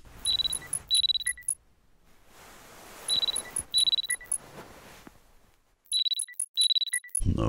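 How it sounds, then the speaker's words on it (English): Video game alarm clock in Parasocial rings in repeated bursts of high electronic beeps, several quick pulses per group, loud and close, with short gaps of low room hiss between rounds. "The alarm is ringing."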